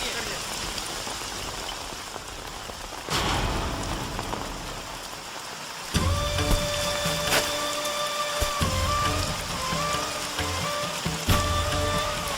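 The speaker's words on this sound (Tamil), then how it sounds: "ஏய் மழை வந்துருச்சு" Rain pours down in a village scene from a comedy film, a steady loud hiss that swells sharply twice, with music and voices layered over it throughout.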